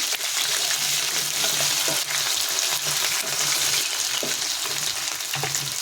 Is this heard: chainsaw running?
no